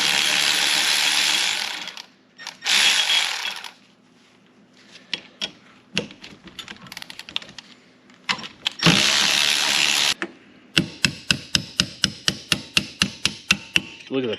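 Metal-on-metal scraping, tapping and ratcheting clicks from prying rusted, seized cotter pins out of the pitted governor on a 1939 Caterpillar D4 crawler tractor, with bursts of harsh scraping and a fast run of sharp clicks near the end, close up.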